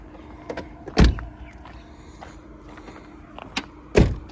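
A car's power window lifter runs in two short whirring bursts about three seconds apart, close by, with no talk.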